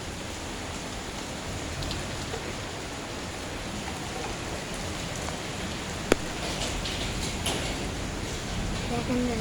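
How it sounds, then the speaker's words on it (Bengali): Heavy rain falling outside, a dense, even hiss of drops that runs unbroken throughout, with one sharp knock partway through. "বৃষ্টির কি অবস্থা"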